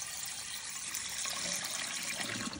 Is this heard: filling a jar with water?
yes